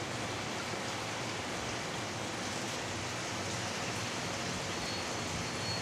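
A small waterfall fountain in a home aquarium with sand, driven by a submersible pump, producing a steady, even trickling wash of falling water, close and continuous with no voices.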